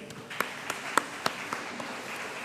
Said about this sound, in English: Please welcome our little graduates with a big round of applause.